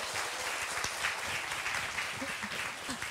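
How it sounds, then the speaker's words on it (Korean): Audience applause at a live public radio broadcast of an English-language programme, a steady wash of many hands clapping that fills the room for the whole stretch, with no one speaking over it. "please give a big round of applause"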